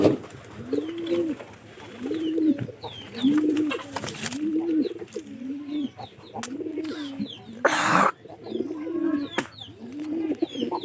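Domestic pigeons, desi and Giribaz breeds, coo repeatedly in a coop, with a steady run of close, rhythmic coos and a few faint chirps behind them.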